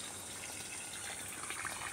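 Water poured at the base of coconut and areca palms, a steady soft splashing flow that runs evenly and fairly faint for two seconds.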